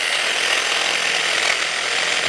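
A power saw cuts during a rainy Suffolk workshop roof build, giving a loud, continuous grinding whine that holds steady for the whole stretch with no talk.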